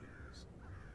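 A single raven caw, brief and faint, over a low ambient drone in the Warhammer End Times: Vermintide video game.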